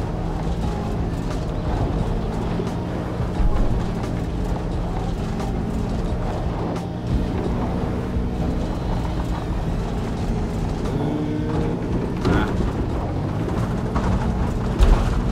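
A JCB excavator fills a pipe trench with soil in the video game Construction Simulator, a continuous low engine rumble with clanks and scraping bursts, steady and loud throughout.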